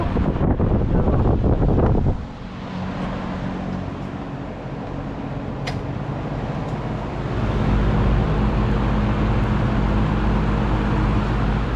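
An early-1970s Kmart box fan, freshly cleaned and oiled, runs on medium speed with a steady, broad whoosh of moving air that stays loud and unbroken after a brief heavier rush at the start.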